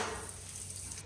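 A brief, sharp sizzle of leaves hitting hot oil, hissing brightly at first and then settling into a softer, steady crackle.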